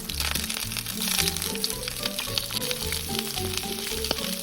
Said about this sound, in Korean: 만두는 기름 두르고 만두를 올린 다음에 물을 조금 넣어가지고 뚜껑 닫아놓으면 진짜 맛있게 구울 수 있습니다